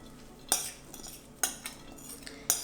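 Zucchini casserole mixture is scraped and spooned into a larger bowl, giving three sharp utensil clinks against the bowl at regular intervals with soft scraping and mushy shifting between them.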